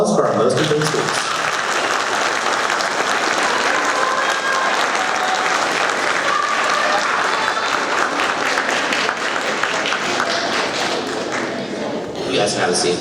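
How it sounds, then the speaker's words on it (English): Loud, sustained applause from a school awards audience honoring seventh-grade Most Improved Students, with dense clapping filling the room for about twelve seconds before tapering at the end. "Round of applause for our Most Improved Students"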